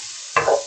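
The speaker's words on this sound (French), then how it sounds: "on va faire revenir les oignons dans la même poêle" Onions sautéing in a frying pan, a brief scrape of stirring over a soft sizzle, close and alone.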